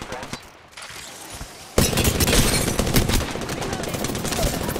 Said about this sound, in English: Is there somebody shooting?